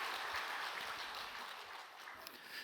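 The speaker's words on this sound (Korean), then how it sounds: "우리 하나님께 영광의 박수 올려드리겠습니다." A church congregation at a Korean Wednesday worship service at Daegu Dongshin Church applauds together, a dense, even patter of many hands that sounds slightly distant and stays steady for its whole length, with no speech over it.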